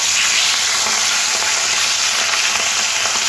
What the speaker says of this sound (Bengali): মাছগুলো তেলের উপরে দিয়ে লাল লাল করে এপিট ওপিট করে ভেজে নেব